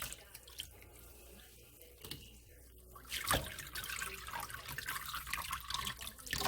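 Water sloshes and swishes in a container while yarn is being dyed, a faint quiet trickle at first that grows into a louder swirling splash for the last few seconds.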